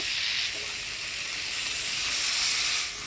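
Potatoes frying in a pan after spice paste and a little water go in, giving a steady close sizzle and hiss throughout with no talking.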